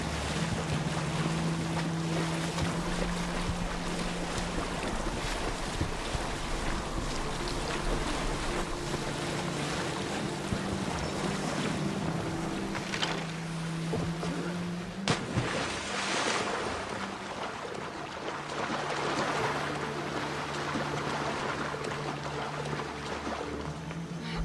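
A sailing ship crossing open sea in Assassin's Creed Odyssey, with a steady wash of waves and wind and a low creaking hull hum, continuous and with no talking.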